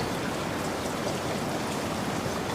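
Steady rain falls in a dense, even hiss of drops hitting surfaces, continuous and close with no breaks or other sounds.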